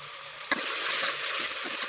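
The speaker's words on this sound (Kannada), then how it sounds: "ಹಸಿ ವಾಸನೆ ಹೋಗುವವರೆಗೂ ಚೆನ್ನಾಗಿ ಫ್ರೈ ಮಾಡ್ಕೋಬೇಕು" Tomato and onion masala frying in a pan, a steady close sizzle that swells louder after a brief clatter of something added, with faint stirring scrapes underneath.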